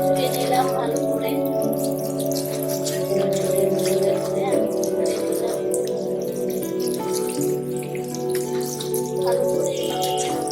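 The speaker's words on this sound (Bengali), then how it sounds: "আমি ধুয়ে নিলাম ভালো করে" Thankuni (Indian pennywort) leaves rinsed under a running tap, a steady close stream of water splashing into a sink for the whole stretch, with faint drips on top.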